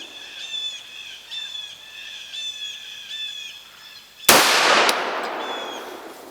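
A single loud gunshot from a Colt Government model 1911 XSE pistol fired outdoors cracks out after several seconds of steady birdsong, leaving a short fading echo while the birds keep chirping.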